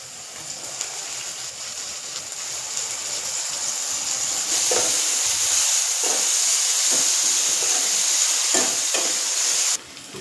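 Onion frying in a pan for a cluster bean curry, a steady broad sizzle that swells louder midway, with a few soft stirring scrapes and a brief dip near the end.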